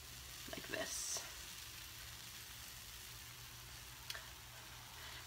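Banana crepe batter fries in a hot greased pan with a soft, steady sizzle, quiet and close, broken by a few faint clinks.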